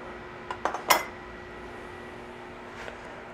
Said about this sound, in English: And I'll get my reusable lid.